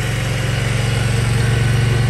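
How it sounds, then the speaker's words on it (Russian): A 2013 Triumph Speedmaster motorcycle idles steadily up close, its low, even engine pulse throbbing loudly and continuously with no voices. "Завелся мотоцикл с полоборота"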